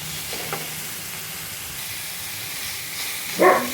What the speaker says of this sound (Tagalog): igisa lang natin hanggang sa mag-brown